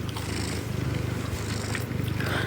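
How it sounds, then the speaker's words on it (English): A cat purrs loudly and steadily up close, a continuous low rumbling purr lasting throughout with no talking over it. "His purr is so loud."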